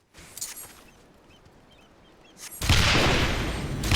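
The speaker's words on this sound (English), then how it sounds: "Cannon!" Cannon fire during the Moonfire Faire seasonal event in Final Fantasy XIV: a loud, close blast erupts partway through and rolls into a sustained booming roar, after quieter game ambience with a couple of brief bursts.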